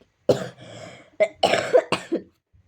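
A woman coughs in several harsh bursts, a first fit followed by a rough, drawn-out throat sound and then three more close, loud coughs, heard alone with no talk.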